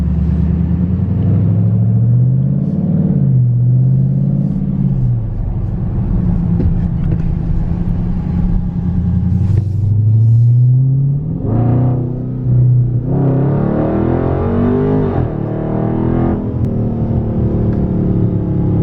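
A 2021 Dodge Charger Scat Pack 392 widebody with a ZL1 wicker bill accelerating hard on back roads, a loud deep engine roar rising and falling through gear pulls, with sharper revving bursts later on.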